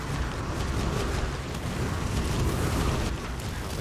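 Fiery Missiles spell firing rapidly in the roguelite game Soulstone Survivors, a dense rumbling barrage of fiery bursts and booms in quick succession, continuous and fairly loud with no talking.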